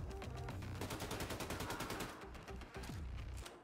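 Rapid, loud gunfire bursts in the first-person shooter Wolfenstein II: The New Colossus, a dense run of repeated shots with booming impacts that barely pause across the few seconds.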